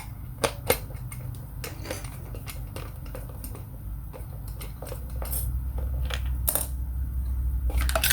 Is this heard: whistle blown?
no